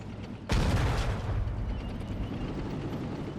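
A heavy boom bursts out of World War II battle noise in Sudden Strike 4 as artillery and anti-tank guns fire, then a loud, rumbling wash of explosions and gunfire rolls on steadily with no voices.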